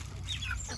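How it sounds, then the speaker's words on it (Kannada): Native country chickens and roosters give short, chirpy clucks close by for under a second, over a steady low background hum. "ಹುಂಜಗಳಾಗಲಿ ತಪ್ಪರೆ ಕೋಳಿಗಳಾಗಲಿ ಸೈಲೆಂಟಾಗಿರಲ್ಲ."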